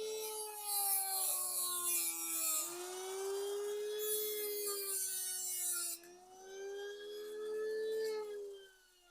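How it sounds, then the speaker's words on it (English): A Dremel rotary tool with a cutoff wheel cuts through steel gym cable-machine cable, giving a loud, steady high whine with a shifting pitch that runs for several seconds, then dips briefly before resuming. "I'm just using the Dremel tool with the cutoff wheel because it's the easiest for me."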